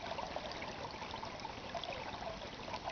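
Swift stream water runs steadily past a tree and a small island, a soft continuous trickling rush that stays even and close throughout, with no voices.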